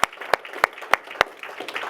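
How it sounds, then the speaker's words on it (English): A few sharp, evenly spaced claps ring out over a soft murmur at a keynote talk, more like a small group's brief, sparse applause than a full ovation. "Please join me in giving another round of applause for them"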